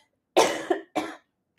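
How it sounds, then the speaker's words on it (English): A man coughs twice in quick succession, the first a harsh double burst and the second a shorter hack, close and loud against silence. "And hold on a second, I got a cough."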